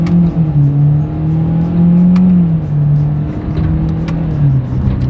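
A 2024 Hyundai Kona held in first gear as it accelerates, its engine holding a loud, steady drone with a slight rise and dip in pitch, heard from inside the car with no talk.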